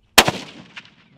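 A single loud, close rifle shot during a mountain hunt in Namibia, a sharp crack followed by a quick echo and a fading rumble rolling off the terrain.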